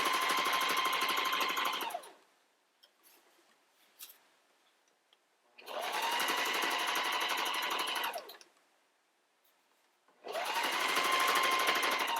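Sewing machine top-stitching a fabric bag, three bursts of fast, steady mechanical whirring and needle rattling, each about three seconds, with quiet pauses between them and faint handling noises in the gaps.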